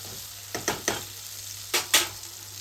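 Spices stirred into an onion and tomato mixture frying in a pan for a dhaba-style cashew curry, giving a low background sizzle broken by four short scraping stirs, with no talking.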